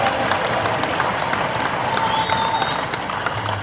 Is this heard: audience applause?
yes